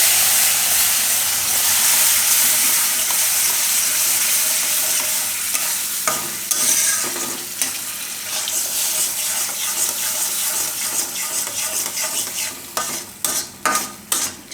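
Rajgira flour roasting in a pan as milk is poured in bit by bit and stirred, a loud wet sizzle with liquid gushing early, then rhythmic scraping stirs that grow sharper and quicker toward the end, with no talking.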